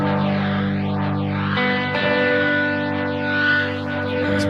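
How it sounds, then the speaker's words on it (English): Electric guitar through a BOSS GT-1000 with the drive turned right up, heavily distorted sustained chord with swirling rotary and reverb effects, loud and alone with a change in the chord partway through. "Let's just increase that drive a bit."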